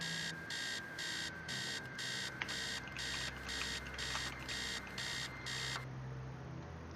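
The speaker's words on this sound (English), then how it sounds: "Upstairs, the sound of an alarm clock blaring." An alarm clock blares in a rapid repeating beep pattern, bursts evenly spaced for several seconds, then cuts off; faint and somewhat distant.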